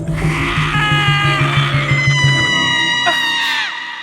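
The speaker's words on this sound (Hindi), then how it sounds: "सुनाई देती रही तो बस बिमला की चीखें और उसका दर्द में दरहना।" A woman screams in pain as a horror story effect, sustained wailing cries layered over a droning, eerie background.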